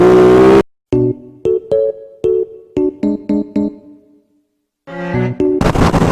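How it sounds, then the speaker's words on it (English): Aprilia RS660 motorcycle engine fires loud and close through rapid gear changes, sharp rev blips from the auto blipper and crisp quick-shifter cuts stuttering in a choppy, staccato sequence, with a brief silent gap between bursts. "That auto blipper's lovely. The quick shifter's butter."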